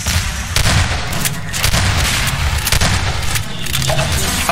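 Grenade blast and heavy gunfire in a Half-Life 2 Deathmatch match, with loud booming bursts and rattling shots packed densely throughout and no quiet gaps.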